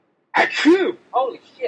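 One sudden, close sneeze bursts out, then a person speaks a short exclamation.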